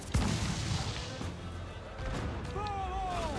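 Ship cannon fire in Assassin's Creed IV Black Flag: one heavy boom opens the clip, then a rumbling naval battle follows with rushing sea and wind, while someone talks over it.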